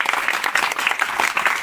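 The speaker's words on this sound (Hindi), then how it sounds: "ताली बजा दीजिए अपने" An audience claps in uneven, pulsing bursts, the individual hand claps fairly close and distinct rather than a smooth roar.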